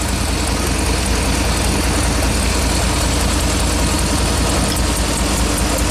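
A Chevy dump truck's Vortec V8 idles with a cylinder misfire, making a loud, dense, steady rumble heard up close without a break.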